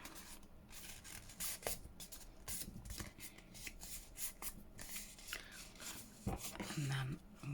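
Paper ephemera made for a junk journal is folded by hand, giving close, crisp rustles and creasing crackles in irregular bursts while a voice talks quietly in the background.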